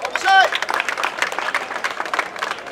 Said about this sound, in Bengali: আপনারা একটা হাততালি দিবেন